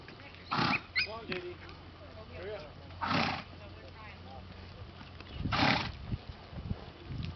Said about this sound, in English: Keep on trotting your horses.